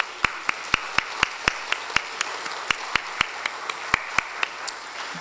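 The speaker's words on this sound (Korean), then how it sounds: "한번 박수로 한번 격려해 주시면 좋을 것 같습니다" During a Sunday church service, a single nearby pair of hands claps in a steady, even rhythm of sharp distinct claps over a quiet room, encouraging staff members.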